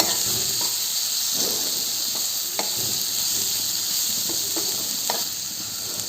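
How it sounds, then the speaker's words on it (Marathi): Finely chopped tomato sautéing in a pan for a raw banana curry gives off a steady, close sizzle and hiss with occasional soft stirring taps and faint crackles. "आता यामध्ये बारीक कट करून घेतलेला टोमॅटो घालून घेऊ। टमॅटो पण छान आपल्याला सॉफ्ट होईपर्यंत परतून घ्यायचा आहे."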